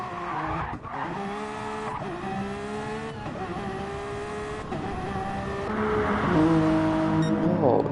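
Race car spinning out in a GT-class endurance racing game, with a continuous loud engine roar, harmonic whine and squealing tires that rise louder near the end, while a commentator talks over it.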